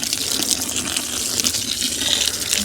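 Water from a hose nozzle pours steadily into a mix at a building site in Spain, a close, continuous rushing gush with no break.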